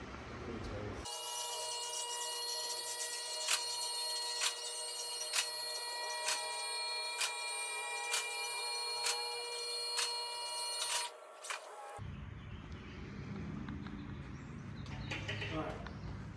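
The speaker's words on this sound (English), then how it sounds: "Let's raise the lift up here" A car lift raises a Ford Mustang in a home garage: a loud, steady electric-motor whine with strong tonal harmonics runs for about ten seconds, then cuts off abruptly, followed by duller room noise and faint voices.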